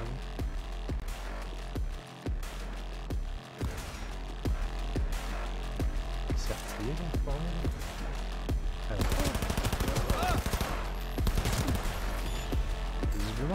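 Bursts of gunfire from a weapon in Cyberpunk 2077, with rapid repeated shots over continuous game music and effects, building into a denser, louder barrage near the end.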